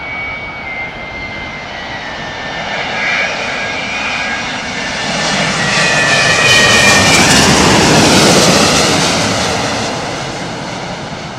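Airbus A330-900neo jet airliner with a big nose-up attitude and Trent 7000 engines, a loud steady roar that swells as it passes close overhead and then slowly eases, with no voices.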